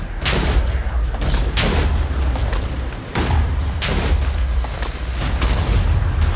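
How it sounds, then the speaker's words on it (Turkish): Repeated explosions in the Minecraft video game, heavy booming thuds one after another in a dense, loud barrage that continues almost without a break. "Dostlarım etraf patlıyor. Etraf patlıyor."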